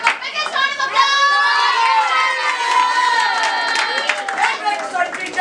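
An audience cheers and claps in a classroom role-play, with excited high voices shouting and whooping over scattered hand claps, loud and continuous.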